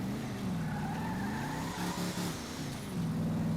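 An old, beat-up car engine in GTA 5 runs with a steady, low droning hum that rises and falls slightly in pitch, holding at a constant loudness with no voices.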